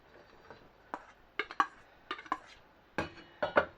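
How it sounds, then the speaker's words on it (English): Cooked pasta added to a pan of broccoli and cheese sauce, a series of light clinks and taps from utensils against the pan, sparse and close with quiet gaps between. "once the sauce is heated through, we're going to add the cooked pasta"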